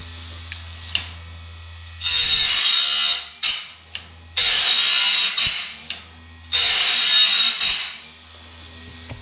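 A bandmill blade sharpening machine runs in three loud whirring bursts, each a couple of seconds long and separated by quieter mechanical clicks and spin-down, with no talking.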